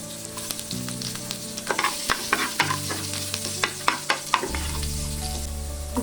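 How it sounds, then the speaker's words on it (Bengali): Whole panch phoron spices with chopped ginger and garlic fry in hot oil, a steady close sizzle broken by sharp clicks of a spoon stirring against the pan, with no talking. "পাঁচফোড়নটা দিয়ে দিব আর সাথে সেই কেটে রাখা আদা রসুন"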